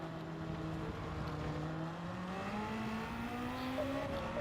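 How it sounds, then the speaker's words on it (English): A Porsche hypercar engine in Gran Turismo 7 drones steadily in a racing game, holding a sustained tone that climbs gradually as the car accelerates, with a continuous mechanical roar and no talking. "That Porsche sounds so good."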